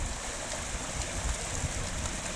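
River waterfall rushing in a steady, broadband roar of falling water, close and continuous with no voices over it.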